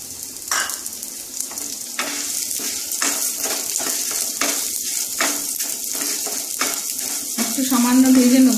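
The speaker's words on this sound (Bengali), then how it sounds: "হয়ে গেলে আমি ডালটা ভেজে নেব" Mung dal fries with cumin in a pan, giving a steady crackling sizzle broken by repeated scrapes and clinks of a spatula stirring against the metal, close and fairly loud.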